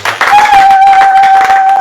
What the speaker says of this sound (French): Est-ce que quelqu'un peut me donner une bonne acclamation pour voir?